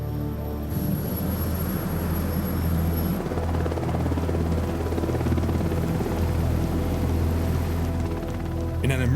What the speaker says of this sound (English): The classic search and rescue helicopter is the Sea King